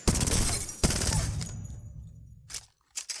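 R99 submachine gun from Apex Legends fired in bursts: two dense, loud rattling bursts that end in a short pause, then a few quick separate shots, with no talking.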